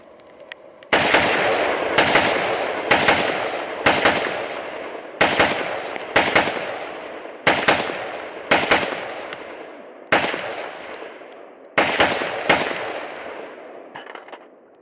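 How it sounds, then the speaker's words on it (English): A Noveske rifle fires rapid double taps outdoors during a torture test, loud paired cracks repeating about every second or two with short ringing decays, ten pairs in a row. "Let's do 10 double taps."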